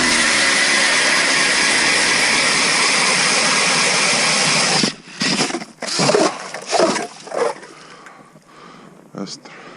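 Ryobi 1/2 in hammer drill on 1 plus 3 amp batteries spinning an ice auger through ice, a loud steady whining grind for about five seconds, then brief choppy bursts as it stops and restarts.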